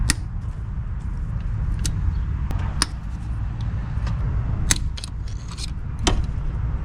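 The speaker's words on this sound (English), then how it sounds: "Now with a 5mm Allen, we're going to take off these bolts here." Alternator bolts on a 2004 VW Jetta 1.8T are worked loose with a 5 mm Allen wrench. Sparse, sharp metallic clicks and ticks sit over a low background rumble, close by and with no speech.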